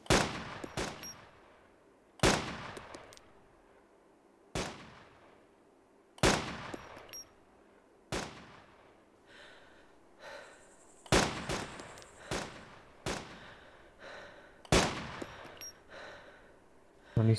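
Gunfire in the survival video game DayZ: about a dozen sharp, loud single shots spaced irregularly a second or two apart, each with a short decaying tail, over a quiet background.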